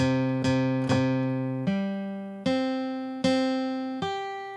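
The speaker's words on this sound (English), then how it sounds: "Let's move to a guitar sound." Six plucked, synthetic guitar-like notes ring out one after another, each decaying slowly, clean and close with no talking.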